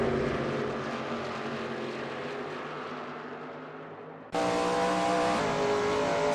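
Shelby Mustang GT350R race cars at Goodwood Circuit, with a loud sustained engine roar whose pitch slowly falls, then another engine abruptly cutting in louder and higher, no voices.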